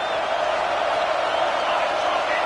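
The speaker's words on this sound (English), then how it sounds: "Here comes the crowd noise, trying to help this defense out" Crowd noise roars in an NCAA 25 college football video game, a dense, steady stadium din building behind the defense, with a play-by-play commentator's voice running over it.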